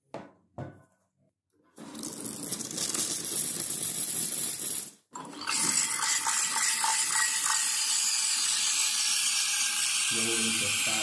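Espresso machine steam wand heating and rolling milk toward 60 to 65 degrees with microfoam, a loud steady hiss and roar that starts after a short sputter, breaks briefly, then continues without talk.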